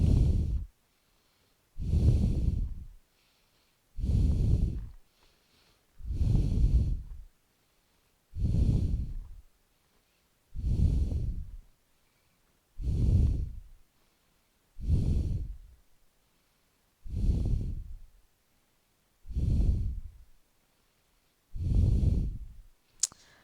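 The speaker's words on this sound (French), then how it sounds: "Et je respire." Slow, audible breaths during a beginner yoga exercise: about a dozen evenly spaced, soft breathy swells, each a couple of seconds long with short quiet gaps between, close to the microphone and with no talking.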